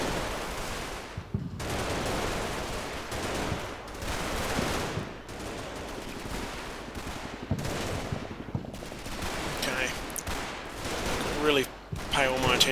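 Rapid bursts of rifle and machine-gun fire crackle almost continuously in a Combat Mission Battle for Normandy battle, with PIAT launcher shots among them and a voice speaking over the combat.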